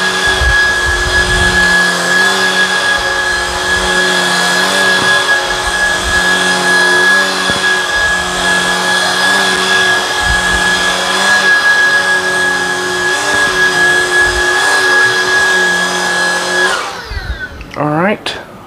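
A Shark Vertex cordless vacuum runs steadily on a high pile rug, a loud close whine with a sharp constant tone and pulsing motor note, before it shuts off and winds down near the end.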